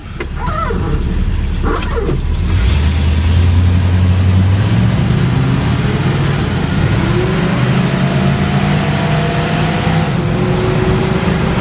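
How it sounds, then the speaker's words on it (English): A 1972 Chevy C/K Action Line pickup with a Turbo Hydramatic automatic accelerates on the road, its engine rising and dropping in pitch as it shifts up through the gears. Steady wind and road noise run underneath and no one speaks. "Shifts through the gears as it should."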